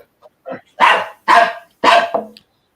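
A dog barks in four or five loud, close bursts, the first yips short and the later barks fuller, with no voices over them.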